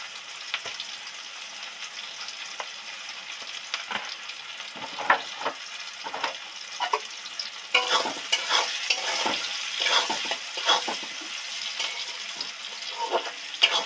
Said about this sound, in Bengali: পেঁয়াজ তেলের মধ্যে একটু লবণ দেবো, দিলে সব করে তাড়াতাড়ি ভাজা হয়ে যাবে।